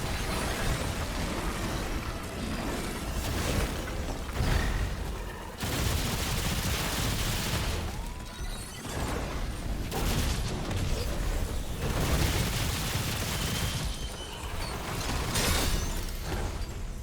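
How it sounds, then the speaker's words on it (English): A deployable ground turret fires in Remnant 2, a loud, dense, continuous rattle of rapid shots and mechanical clatter with brief dips, layered over game combat noise and no talking. "ground turret's actually doing a decent job here"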